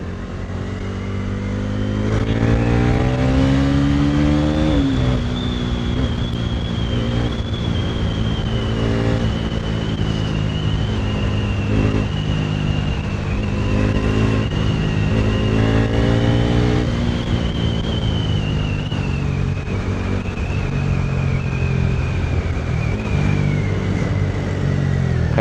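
Bajaj NS400z and NS200 motorcycles race along an evening road, engines revving loud and close with sustained rising and falling pitch through acceleration, steady roar throughout without talk.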